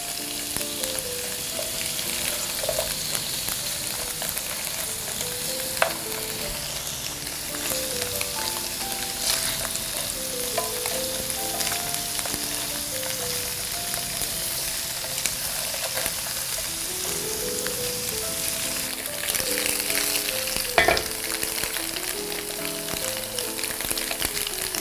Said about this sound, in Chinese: 我们来翻面一下啊，煎底部